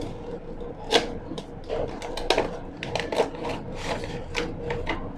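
A low-cost USB hub package is opened with soft, irregular clicks, taps and rustles of handling, close and fairly quiet.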